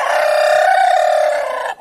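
A naked-neck chicken in the coop lets out one drawn-out, loud call, held steady for nearly two seconds and heard up close without talk.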